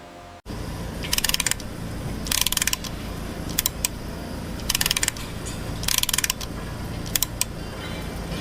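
A technician works a tool on the central retaining nut of a scrap jet turbine engine, giving repeated bursts of mechanical ratcheting clatter at close range over a steady industrial hum, with no talk.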